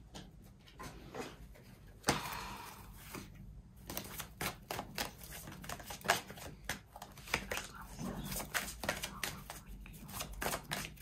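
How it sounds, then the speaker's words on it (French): Tarot cards are gathered up from a surface after being dropped, a close series of irregular soft slaps, shuffles and clicks, scattered and uneven across the clip. "Donc, j'ai fait tomber des cartes, je reviens."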